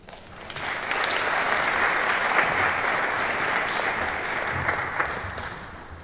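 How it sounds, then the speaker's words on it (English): Audience applause at a Philadelphia event about America's 250th birthday celebration, a dense steady wash of clapping that swells in quickly and holds loud for several seconds. "Can we get another round of applause for Steve Sims?"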